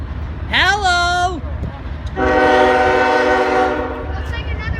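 An auto train rolls past and sounds its horn in two loud blasts, a short one and then a longer steady one, over rumbling track noise with voices nearby.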